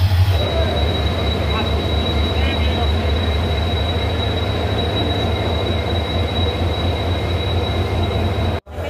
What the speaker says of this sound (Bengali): ট্রেন চলে এসছে আমাদের 1 নম্বর প্ল্যাটফর্মে